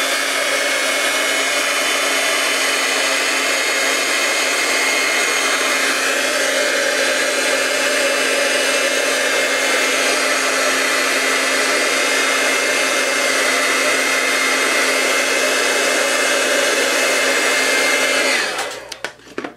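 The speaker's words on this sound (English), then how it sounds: "let me zap it with the heat tool real quick." A heat tool blows hot air steadily and loudly over a craft star ornament with wet ink, holding an even roar for about eighteen seconds before cutting off abruptly near the end.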